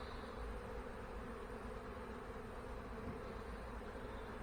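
Honey bees buzz around an opened hive, a dense, continuous hum from many insects close by, steady and loud throughout with no talk.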